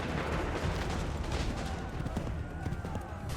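Dense musket volley gunfire from massed soldiers in Assassin's Creed 3, a continuous rumbling crackle of overlapping shots with a distant battlefield roar, and shouted commands heard faintly underneath.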